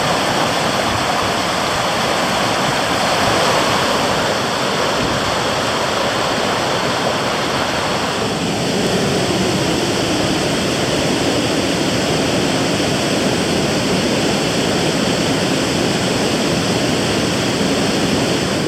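Steady, loud rushing roar of a waterfall beside a river portage trail, broadband and unbroken for the whole stretch with no voices.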